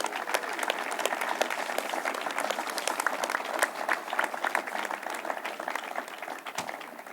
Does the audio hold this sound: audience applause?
yes